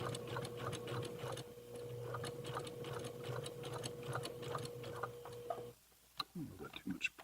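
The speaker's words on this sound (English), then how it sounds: "And just sew away." A sewing machine runs steadily, stitching fabric guided along a ruler as a seam guide, its rapid ticking hum close and continuous before stopping abruptly, followed by a few faint handling clicks.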